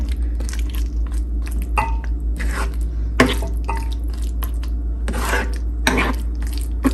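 Drumstick pieces being stirred in masala in a pan, repeated scraping and clinking of a spoon against metal over a constant low hum, close and without talk.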